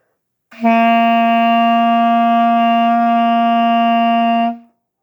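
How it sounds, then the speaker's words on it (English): A beginner band wind instrument holds a single sustained C, one long steady tone of about four seconds with a clean start and fade, loud and alone. "Your C should sound like this."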